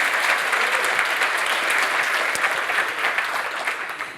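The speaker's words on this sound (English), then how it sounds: "So big round of applause to them because they deserve it" Conference audience applauding the event organizers, steady dense clapping throughout that tapers slightly toward the end, with no voices over it.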